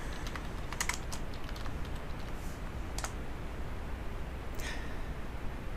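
Someone types on a computer keyboard in Word, with a quick cluster of key clicks followed by a few sparse, isolated taps against a soft constant hiss.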